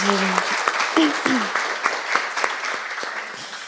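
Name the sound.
audience applause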